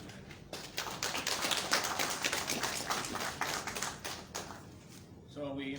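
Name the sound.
audience applause for the senator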